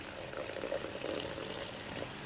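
Water is poured into a grinder jar holding coconut paste for coconut payasam, a steady close splashing trickle throughout.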